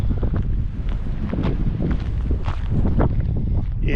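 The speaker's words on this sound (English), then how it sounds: "It is a windy area." Gusty wind buffets the microphone on an exposed ridge above a riverside campground near a windmill farm, a steady rough roar with low rumbling throughout, fairly loud and close, with faint crunching footsteps underneath.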